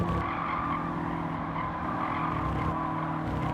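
In Gran Turismo 7 at Fuji Motor Speedway, a race car spins out, its tires skidding and squealing continuously against a droning engine hum. The sound is loud and sustained, with no talking.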